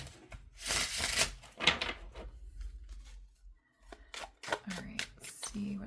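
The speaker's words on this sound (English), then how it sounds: "I'm going to shuffle the tarot one more time," Tarot cards being shuffled in several quick bursts of papery riffling and flicking, close and fairly loud, with pauses between, before a cancer-sign reading; no talk during the shuffling.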